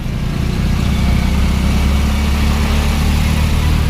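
An auto rickshaw rides through busy Pune city traffic on a summer morning. Its engine gives a steady, loud low drone throughout with continuous road noise and no voices.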